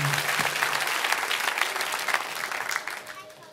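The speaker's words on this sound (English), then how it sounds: "Come on, let's celebrate Jesus one more time with a big hand clap." A church congregation at a Watoto Children's Choir service gives a big round of hand clapping, dense and lively, gradually tapering off over a few seconds.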